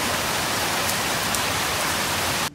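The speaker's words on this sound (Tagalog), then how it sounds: "kusog naman day kaing ulan sa gawas." Heavy rain pours outside a store, a loud, dense, unbroken roar of falling water heard alone from start to finish.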